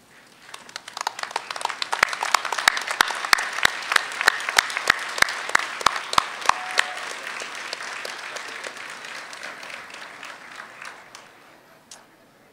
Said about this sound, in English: Graduates, please rise and applaud all of those who have supported you.